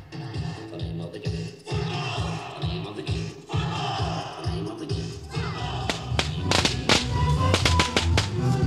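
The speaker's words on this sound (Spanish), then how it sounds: "y petardos para los niños." A rapid burst of sharp firecracker pops crackles near the end, following a stretch of rhythmic thumping and a busy background at a sea gypsy festival in Thailand.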